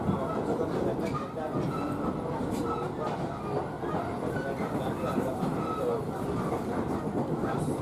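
Steady rumble of a commuter electric train (KRL) rolling on rails toward Rangkasbitung, Indonesia, with faint rhythmic clacking and a murmur of voices in the carriage.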